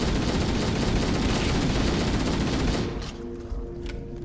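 Dense, continuous gunfire in Halo: Combat Evolved, a loud roar of rapid shots that drops away after about three seconds to scattered fainter bursts.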